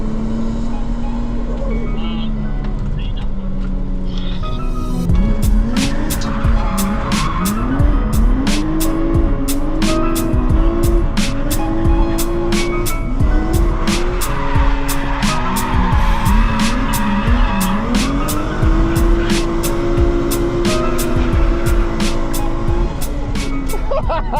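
A car runs a lap of Ebisu Circuit in Japan, its engine rising and falling steadily through gear changes while the tires squeal and skid repeatedly through the corners, loud and close throughout.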